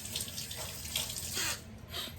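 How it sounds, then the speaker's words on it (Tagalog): Water gushing steadily from a washing machine's drain as it releases its wash water, a continuous splashing flow like a running tap, fairly close with no talking. "Tingnan natin yung ating washing machine kung naglabas na siya ng tubig."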